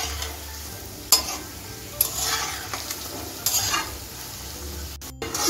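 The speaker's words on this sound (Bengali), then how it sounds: "এবার উল্টে পাল্টে আমি ভেজে নেব দুপাশ।" Mango boras sizzle steadily in hot oil as they are flipped, with a few sharp clinks and scrapes of a utensil against the pan over the continuous frying hiss.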